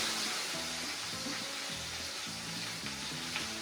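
Kataifi-wrapped shrimp frying in a pan, a steady close sizzle of hot oil with faint background hum and light clinks, no voices.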